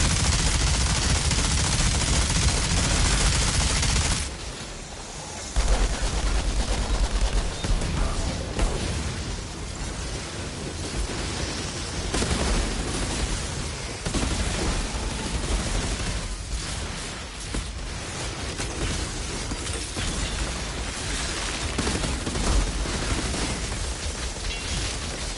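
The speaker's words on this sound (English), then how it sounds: "then I just pull out my minigun and shoot his head" Sustained minigun fire in the video game Outriders, a dense roaring stream of shots with popping impacts and bursts, loud and nearly continuous apart from a brief lull early on, with no talking.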